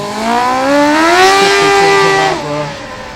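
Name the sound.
Formula Student race car with slipping clutch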